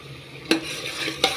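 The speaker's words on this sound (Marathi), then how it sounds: "तेलामध्ये छान फ्राय होऊ द्यायचं याला." Green masala paste of onion, green chilli, coriander and tomato fries in oil in a pressure cooker, a soft continuous sizzle broken by two sharp scraping stirs of a spoon.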